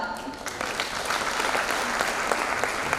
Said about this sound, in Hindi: Huge round of applause for a true pioneer, Miss Seema Shah.